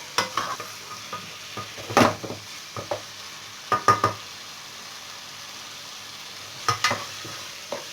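Chicken and finely cut vegetables frying in a pan while being stirred: a low sizzle beneath scattered clacks and scrapes of a spoon against the pan, coming in short clusters with quiet gaps, close and without speech.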